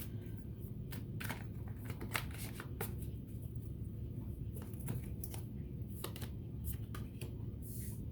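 Tarot cards are shuffled and drawn close up in quick riffling bursts and sharp flicks of card stock. The sound is fairly soft and comes in irregular clusters, with a faint low background hum and no talking.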